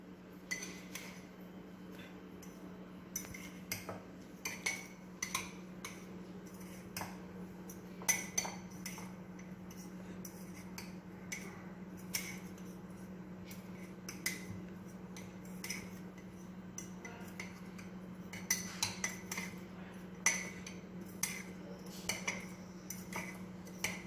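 A spoon clinks and scrapes steadily against a mug while mixing cocoa powder with other dry ingredients for an eggless chocolate mug cake, giving repeated small metallic taps over a low steady hum, close and fairly quiet.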